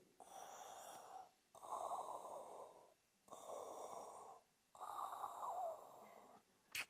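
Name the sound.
voice imitating Darth Vader's mask breathing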